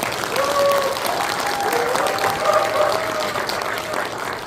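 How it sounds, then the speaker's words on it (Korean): An audience applauds at a book launch event in Korea, with a sustained burst of clapping from a full room while a voice speaks over it. "여러분 다시 한번 큰 박수 부탁드립니다."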